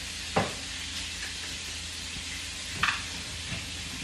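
Chicken frying in oil gives a steady broad sizzle throughout, with a couple of brief clinks or stirring knocks and no talking.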